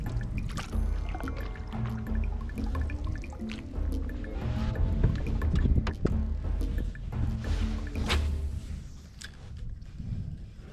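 A canoe paddled steadily on one side with a J-stroke, giving repeated close watery splashes and drips from the blade that carry on without pause and with no talking.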